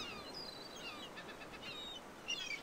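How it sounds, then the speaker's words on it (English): Seagulls call in a seaside scene of the video game Lost Lands 4, with thin, high cries scattered over a steady hiss of ambient noise, growing a little louder near the end. "These seagulls here are making lots of noise."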